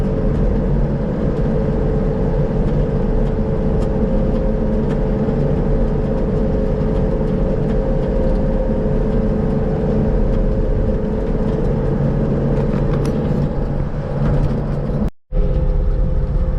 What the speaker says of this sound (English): even going this fast, it feels a little squirrely, but it's an old truck.